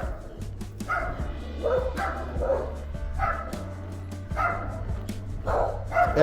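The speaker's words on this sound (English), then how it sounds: "those are beautiful dogs" Several dogs bark repeatedly from houses along a residential street in Merida, Mexico, loud, uneven volleys of barks and yips close by, with a low steady hum underneath.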